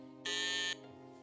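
A buzzer sounds once in an indoor scene, a harsh, loud electronic tone lasting about half a second over a quiet background hum, with no talking.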